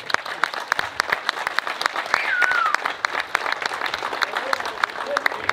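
Crowd applause for the drivers at a Volvo versus Saab burnout show during a motor show event. Sharp individual claps stand out over a rolling clatter of clapping, and voices and whistles are audible now and then in the background.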